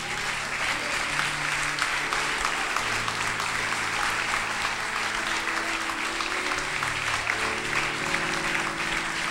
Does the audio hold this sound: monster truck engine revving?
no